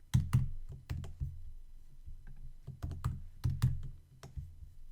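Rapid typing on a computer keyboard while writing basic HTML code: irregular bursts of sharp, close clacks and clicks, with short pauses between runs of keystrokes and no voice.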